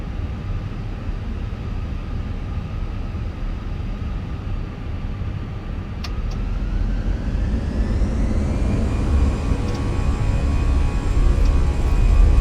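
In a Microsoft Flight Simulator 2020 A320, the jet engines spool up for takeoff as a dense, steady roar swells louder. A whining tone climbs in pitch partway through as the thrust builds, with no voices.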